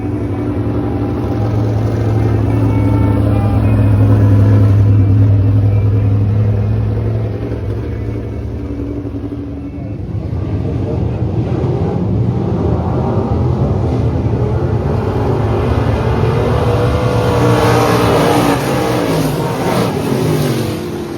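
Modified race cars roar around the dirt oval at 81 Speedway during a heat, engines droning steadily for the whole stretch with rising and falling revs as the pack passes, loud and continuous with no talking.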